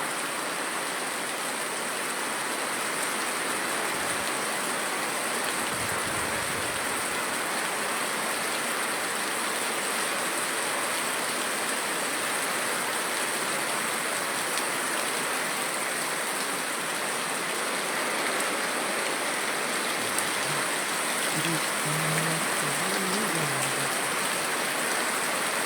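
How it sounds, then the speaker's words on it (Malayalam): Heavy rain pours steadily over Amaravila near Neyyattinkara, a dense, unbroken hiss that holds at an even level for the whole stretch, with no voices. "നല്ല കനത്ത മഴയാണ് ഈ പ്രദേശങ്ങളിൽ പെയ്യുന്നത്"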